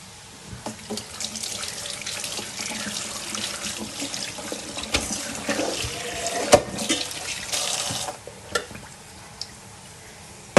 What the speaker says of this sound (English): We first wash these tomatoes